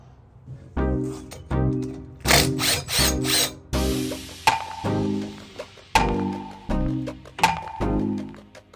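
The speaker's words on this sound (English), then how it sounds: "Now what we're gonna do is remove this brake line bolt, just so it's not stressing out the brake line." Power tool bursts working a brake line bolt loose on a third-generation Toyota Tacoma during a lift install, a series of short whirring pulses with clicks and rattles between them, close and fairly loud.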